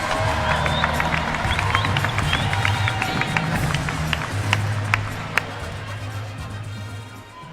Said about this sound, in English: How about a round of applause to your top 8 and your NCAA champ